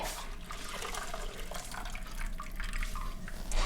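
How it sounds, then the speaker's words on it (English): A dirty rag is swished and wrung in a bucket of plain water, giving steady close splashing and dripping with no talk over it. "You're gonna take your dirty rag and you're gonna put it first into the clean water."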